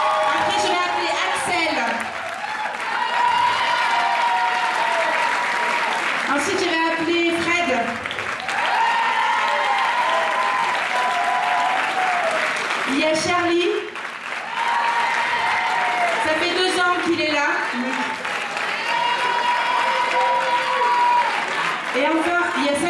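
A pageant audience at the Miss Ronde Poitou Charente 2013 election gives a long, sustained ovation, with dense clapping that swells and dips in waves, tonal sounds and voices running underneath.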